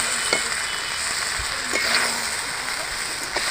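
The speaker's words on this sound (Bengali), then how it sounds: "আমি হালকা করে নেড়ে দেবো।" Spices sizzle and fry in a pan while being stirred for a vegetarian cauliflower roast, a steady crackling hiss with a few soft clinks of the spoon, close up and with no talk.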